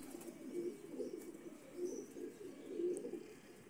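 Pigeons coo softly in low, throaty phrases that repeat about three times, fairly faint against a quiet background hiss with no talking.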